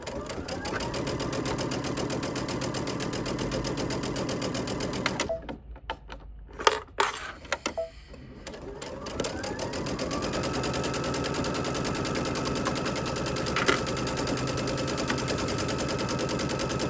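A sewing machine stitches a fabric lining piece for an edge-to-edge witch's hat, running steadily in a fast even chatter, pausing briefly in the middle with a few clicks before resuming the continuous whir close by.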